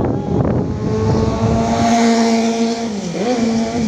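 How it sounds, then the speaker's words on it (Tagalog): Road traffic on a street in Bagong Ilog, Pasig, with a steady engine drone and cars passing close by, one engine note dipping and rising near the end, loud and continuous without talk. "Traffic."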